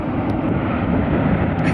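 An airliner in a Colorado livery at Atlanta airport roars steadily and close, a broad continuous engine rumble filling the whole moment with no pauses and no voices.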